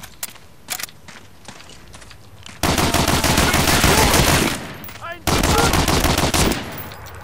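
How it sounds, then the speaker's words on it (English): Browning automatic rifle fire in Medal of Honor: Allied Assault comes as two long, loud, rapid automatic bursts separated by a brief pause, following a few scattered quieter shots and clicks, up close with no talking. "Yeah. Browning automatic rifle."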